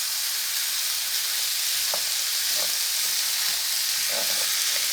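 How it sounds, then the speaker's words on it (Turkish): Sliced vegetables for an olive-oil artichoke dish sizzle in a pan of olive oil, making a steady, loud, dense hiss with a few faint stirring taps, close by and without speech. "haşlayıncaya kadar bir 5 dakika bu şekilde kavuruyoruz arkadaşlar"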